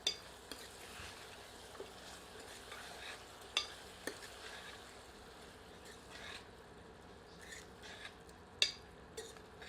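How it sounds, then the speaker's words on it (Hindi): A utensil scrapes and stirs through spinach chicken curry in a pan with a faint background sizzle, occasional sharp clinks of metal against metal. "एक बार अच्छी तरह स्टर करते हैं।"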